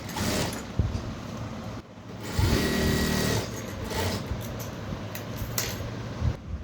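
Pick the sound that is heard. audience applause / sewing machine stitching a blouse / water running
sewing machine stitching a blouse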